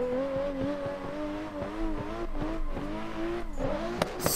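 An S15 rally car in a snow drifting alpine stage video game, its engine revving with rapidly pulsing throttle, the pitch wavering up and down continuously and closely with no talk.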